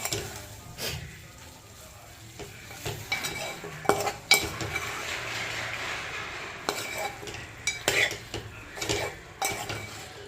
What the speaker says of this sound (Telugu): అల్లం వెల్లుల్లి పేస్ట్ పచ్చివాసన పోయేంత వరకు వేగించుకుందామండి